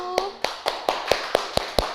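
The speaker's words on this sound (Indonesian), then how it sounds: "Tepuk tangan untuk kelompok 1." A classroom of students claps for a group in a microteaching session, eight distinct, evenly spaced hand claps in a slow rhythm, close by, with a voice briefly heard at the start.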